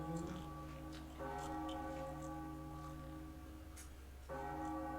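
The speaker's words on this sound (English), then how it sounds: "wonder what ringing this bell will do." A large bell rung in The Legend of Zelda: The Wind Waker gives sustained, ringing metallic tones that swell twice, held steady over game music.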